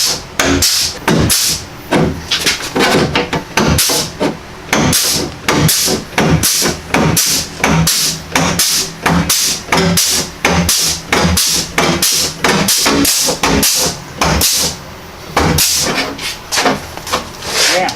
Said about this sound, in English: He's got a pneumatic flanging tool that's gonna put a step in the metal so he can overlap the new quarter on the old quarter.